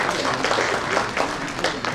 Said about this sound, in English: I think we need to clap for her.